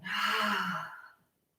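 A deep, breathy exhale during a yoga flow, loud and close, lasting about a second before trailing off into silence.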